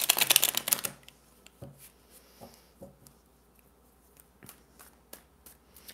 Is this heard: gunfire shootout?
no